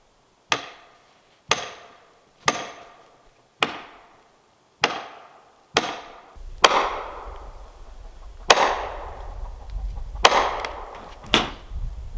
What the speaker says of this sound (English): That's the tree cracking.